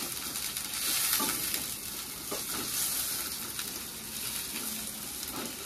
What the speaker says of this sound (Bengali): কাটাটা পেঁয়াজটাকে ভালো করে ভেজে দিই